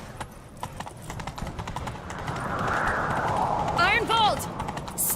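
Horse hooves gallop in a quick, steady clip-clop in Witcher 3, building in loudness before a short whinny, with talk and ambient game sound underneath.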